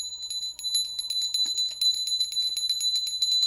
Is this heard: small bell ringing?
yes